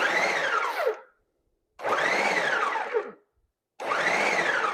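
A kitchen blender chops fresh tomatoes for homemade salsa in three loud, close bursts of whirring motor, each about a second long and separated by short pauses.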